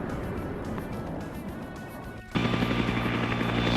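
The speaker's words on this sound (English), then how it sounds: "so we have a chopper back there." A helicopter in the Vietnam War video game Arma SOG Prairie Fire, a loud droning rotor and engine roar that jumps abruptly louder and steadier partway through.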